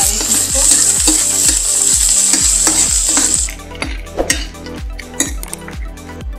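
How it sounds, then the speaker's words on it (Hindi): Garlic and chillies fry in a pan for eggplant bharta, a bright sizzle under rhythmic metal spoon scrapes and clinks, about two per second; the sizzle drops away midway, leaving sparser utensil knocks against the pan. "और इसे गोल्डन ब्राउन होने तक पका लेंगे सारे चीज को।"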